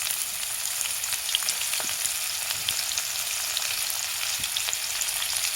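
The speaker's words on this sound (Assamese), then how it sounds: "পাঁচফোৰণখিনি ফুটি লোৱাৰ পাছত পিঁয়াজখিনি দিছোঁ, যিখিনি কাটি ৰাখিছিলোঁ।" Onions frying with panch phoron in a kadai for an Assamese sour fish and egg curry: a steady, close sizzling hiss with scattered small crackles and pops throughout, no voices.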